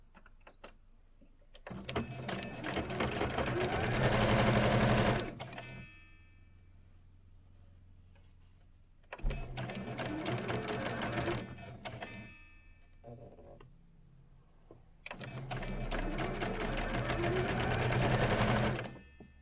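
Sewing machine stitching long fabric strips for the front of an 18th-century gown, running in three buzzing bursts of a few seconds each with quiet pauses between, close and clear, with no talking.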